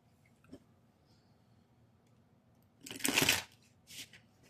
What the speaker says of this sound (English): Let's just shuffle the cards and see.